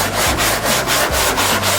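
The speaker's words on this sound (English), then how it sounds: "Just keep sanding it." A dual-action vacuum sander works over a car body panel in an auto body shop, a loud, steady rubbing grind pulsing in quick regular sweeps as the pad moves back and forth.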